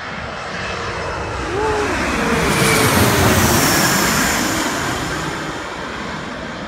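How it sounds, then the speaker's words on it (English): A fixed-wing airplane's engine drones overhead as it heads toward a nearby airport, rising to a broad roar mid-pass and then easing slightly, with no talk over it. "here's a plane coming"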